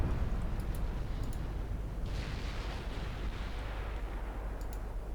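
Naval gunfire rumbles in a video game battle as shells land on the destroyer Nansen, a dense, loud, continuous low roar of booms and blasts with no talk.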